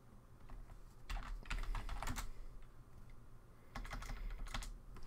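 Fingers typing on a computer keyboard, quiet clustered clicks in two bursts separated by a pause, close and soft with no talking.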